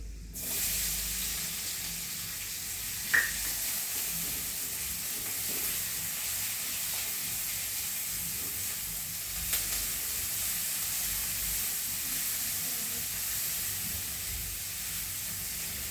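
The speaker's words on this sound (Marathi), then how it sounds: "आता चांगला मोळ करून परतून घेते" Chopped onion frying in oil for a pokla greens dish, a steady broad hiss of sizzling that runs evenly throughout with a couple of faint clinks, no talking.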